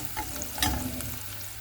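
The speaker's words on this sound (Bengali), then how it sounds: "আর এখানে আমি পেঁয়াজটা একটু লবণ দিয়ে তারপরে এই যে ভেজে নিতেছি।" Onion with a pinch of salt frying in a pan for a fish dish, a steady low sizzle under a few soft stirring scrapes and clinks, close and moderate in level.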